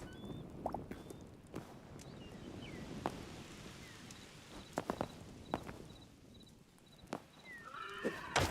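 A horse in the Hytale video game plods with scattered, faint hoof clops and soft thuds, ending in a brief whinny, all quiet and sparse.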